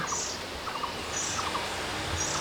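An oriental magpie-robin (doyel) calls outdoors, repeating a short whistled phrase three times at a steady pace over constant background hiss.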